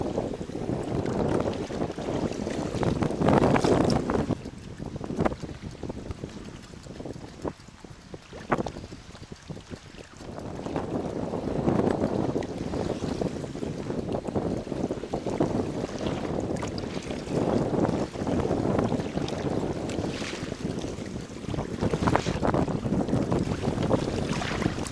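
Wind gusts buffet the microphone out on open water from a small boat, rising and falling in loud rumbling surges with faint water movement underneath, no voices.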